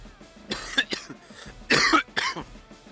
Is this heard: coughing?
yes